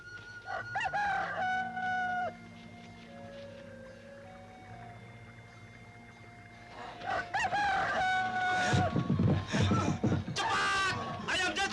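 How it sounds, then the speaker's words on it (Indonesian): A rooster crows in a film soundtrack, two long drawn-out calls with sustained tones and a lower drone beneath, followed by clucking fowl and louder clattering activity toward the end, fairly close and clear with no talk. "Ayam jantan sudah berkokok!"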